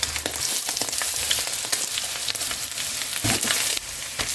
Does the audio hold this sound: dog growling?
no